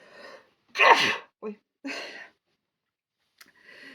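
A single loud sneeze bursts out at close range, framed by short bits of talk and breathy sounds before and after, with a quiet gap in between.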